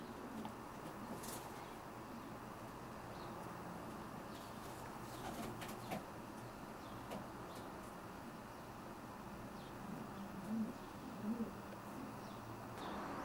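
Racing pigeons in the widowhood section of a loft make a quiet, low indoor murmur. A couple of soft coos come near the end, with occasional faint flutters and shuffles.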